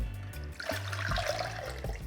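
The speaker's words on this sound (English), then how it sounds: "see if I can just dump some, get my filtered water back in here." Filtered water pours into a spray bottle, a continuous close splashing and gurgling stream lasting a couple of seconds.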